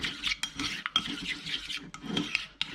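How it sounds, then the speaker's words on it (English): Salad cream and tomato sauce stirred together in a bowl for prawn cocktail sauce, a spoon scraping and clinking against the sides in quick irregular strokes, close and fairly quiet. "Give that a good stir up till it goes nice and orange."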